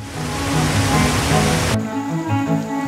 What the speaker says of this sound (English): I have the audio of waterfalls splashing